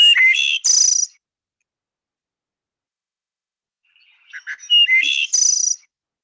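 Thrush song heard twice, each phrase a pure fluting whistle layered with a short up-swooping trill, giving an ethereal harmonic sound; clear and close, separated by several seconds of silence.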